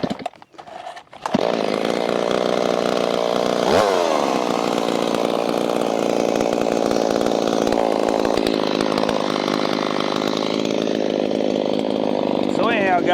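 A Stihl 026 chainsaw with a lowered offset cylinder and modified piston warms up with its faulty choke held shut by thumb, a loud, steady close-range engine drone running continuously after a brief quiet start, with small shifts in pitch.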